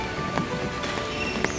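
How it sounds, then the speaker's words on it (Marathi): Steady rain falls at the Red Fort in Delhi, a soft, even patter across the grounds with a few louder drops standing out, heard alone without talk. "पर्यटन करताना मी जिथे गेलो त्या ठिकाणी पाऊस आलेला आहे"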